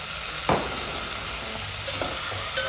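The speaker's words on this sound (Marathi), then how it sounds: "आपण मच्छी चांगली मिक्स करून घेऊ." Kupa tuna pieces are stirred with turmeric and salt, giving a steady hiss with occasional scraping strokes of a spoon at irregular intervals. No voice is heard.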